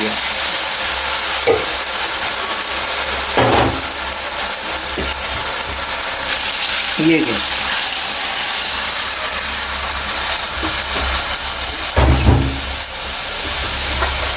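Garlic and onion frying in oil as a paste is added for palak kadhi, a steady loud sizzle throughout with a few sharper bursts of stirring and spattering, close by with no talk.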